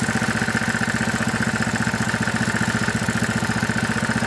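A Briggs and Stratton Q6500 inverter generator engine runs steadily at idle, its even, rapid low chugging pulse constant and fairly close with no voices.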